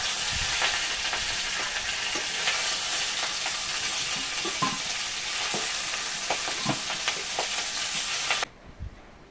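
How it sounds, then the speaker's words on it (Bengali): Catfish fry in hot oil in a wok, a loud close sizzle with crackling pops and occasional stirring scrapes, steady until it cuts off abruptly near the end. "মাছগুলো ভাজা হয়ে গেছে, আমি এবার তুলে নেবো মাছগুলো।"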